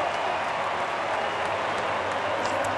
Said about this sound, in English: Chris, you hear the crowd.